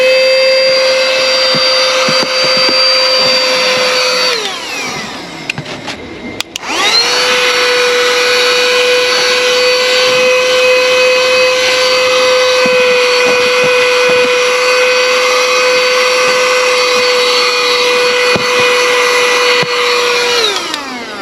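A 120W wireless handheld car vacuum cleaner runs loudly and close, a steady high whine that cuts out briefly, spins back up and keeps going to the end, with no talking.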